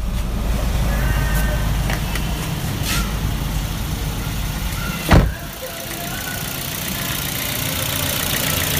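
A car engine idling after its PCV valve was cleaned, a steady, even rumble heard nearby with one brief sharp knock midway and no talking over it.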